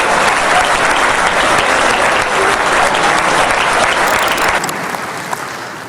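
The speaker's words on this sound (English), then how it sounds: "the crowd went wild" A large crowd at the E3 gaming expo applauds and cheers loudly and continuously, a dense wall of clapping that holds steady before easing off slightly at the end.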